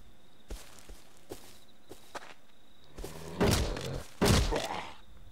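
Heavy footsteps and thuds from something moving around in the game Rust, a few faint taps at first, then two loud, close stomping thumps near the end, with no talk.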